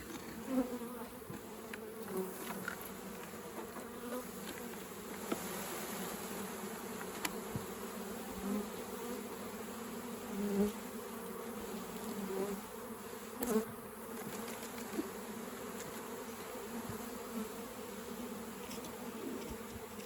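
Honey bees tipped into a new hive box buzz in a dense, steady drone, with individual bees zipping close past now and then, quiet overall.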